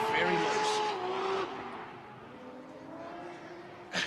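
Race car with a Toyota 1J engine on a circuit, a loud engine roar with squealing tyres at the start that fades to a steadier drone, with a brief burst at the end.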